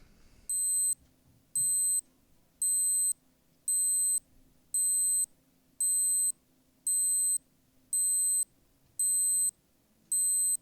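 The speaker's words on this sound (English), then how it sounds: "reaches the end of a countdown timer, it beeps one time per second for 10 seconds" A Casio G-Shock GW-BX5600 digital watch countdown timer beeps in crisp, high-pitched bursts, about once per second, ten times in a steady rhythm over a faint low hum.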